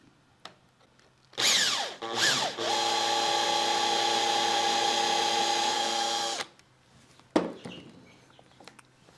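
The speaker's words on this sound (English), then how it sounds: "Let's drill into that a little bit" A power drill bores into a 2x4 while building a planer table. Two short revving bursts lead into a steady high whine lasting about four seconds, then it stops, followed by a few clunks.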